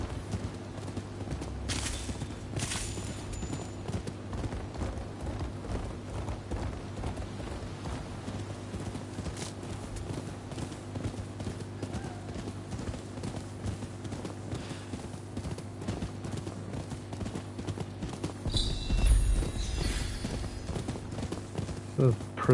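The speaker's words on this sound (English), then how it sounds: "Okay, so we've got the steed sorted out now." Horse hooves clip-clop steadily as a steed is ridden in the video game Rise of the Ronin, a continuous trotting rhythm under a hum of game ambience.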